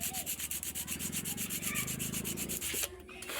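Rapid, rhythmic rubbing strokes of 1000-grit sandpaper on a handle switch scrape back and forth close up, about eight strokes per second, stopping abruptly near the end.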